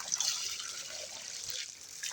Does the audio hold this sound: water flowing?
yes